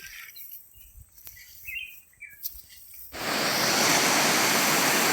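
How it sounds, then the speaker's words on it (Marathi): Birds chirp in a quiet spot before a close stream in Dapoli, Konkan, bursts in as a loud, steady rush of flowing water that drowns everything else. "बघा मस्त असं वाहतं पाणी या ठिकाणी"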